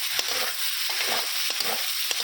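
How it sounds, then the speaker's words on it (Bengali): Ground ginger spice paste with chilli fries in a pan, a loud close sizzle broken by several sharp scraping strokes of a spatula at uneven intervals, without any talking. "মশলাটা ভাজা ভাজা হয়ে গেছে"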